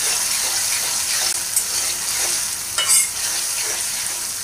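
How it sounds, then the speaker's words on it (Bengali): Six small onions frying in oil in a pan as they are stirred, giving a loud continuous sizzle with a couple of brief spatula scrapes and no talking. "6টা পেঁয়াজ আমি তেলে একটু ডুবে দিলাম। এখন আমি এগুলোকে হচ্ছে নাড়াচাড়া করে দেবো।"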